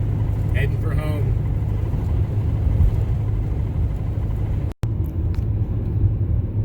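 Constant low road rumble of a vehicle cruising along busy Interstate 40 among truck traffic, heard from inside the cab, with faint voices briefly over it and a sudden short dropout near the end.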